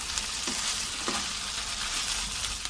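A steady sizzle of food stir-frying in a pan with coriander, with a few soft stirring scrapes over the constant hiss and no talking.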